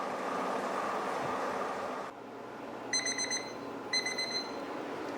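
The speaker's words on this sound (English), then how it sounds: "Okay, that is a 60-minute timer." Background rumble cuts out, then two short bursts of rapid high electronic beeps from a 60-minute kitchen timer during a homebrewing session, about a second apart, fairly close.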